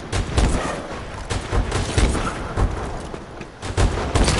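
Rapid gunfire in the shooter Call of Duty: Advanced Warfare, a loud fusillade of sharp shots in quick bursts with brief gaps, close and dominant, with no talking over it.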